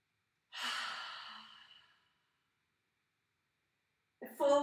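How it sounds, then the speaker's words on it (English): A deep, audible exhale during a yoga class, one long breathy sigh that fades after about a second and a half, followed by a pause and then a brief voice at the end. "Big breath in."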